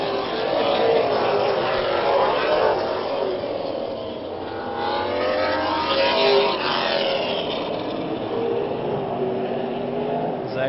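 Late model race cars roar around the Orange Show Speedway oval, a steady loud engine drone rising and falling as the cars pass, with a race announcer talking over it.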